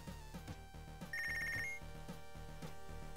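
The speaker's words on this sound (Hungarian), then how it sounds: "Nem világít, viszont szól a telefon" A telephone rings in the boxing video game Punch Club, a short electronic ringtone burst standing out clearly over steady game music, loud and close.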